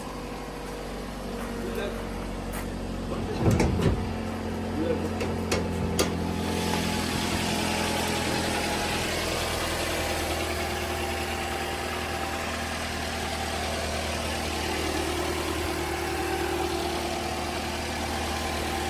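A 2018 Toyota Corolla automatic idles on a morning start with a steady low hum, joined by a faint air-conditioning whir; a brief clatter early on, and the hum continues alone.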